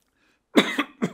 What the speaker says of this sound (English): Hugh Lane water makes you cough.